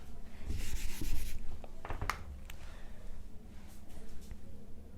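Marker or chalk scratching and rubbing across a classroom board in short strokes, close and fairly clear, with faint room noise and no talk.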